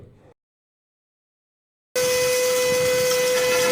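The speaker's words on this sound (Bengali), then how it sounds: "এবার চলুন আপনাদেরকে বুটের ডাল গুঁড়ো করে দেখাচ্ছি" A 350 W electric grinder grinds chickpea dal into powder, starting abruptly after a brief silence into a loud, steady whining hum with a high tonal drone, close and continuous.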